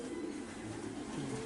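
Racing pigeons in breeding boxes at a loft coo in low, soft, continuous murmurs close by, a steady throaty burble with no talk over it.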